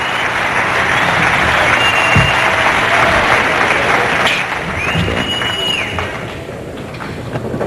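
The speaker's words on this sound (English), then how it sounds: "A rousing applause from this big crowd." A big crowd at a 1995 Dick Weber Classic bowling event breaks into loud, sustained applause, dense clapping with a few cheers that fades slightly near the end while an announcer talks over it.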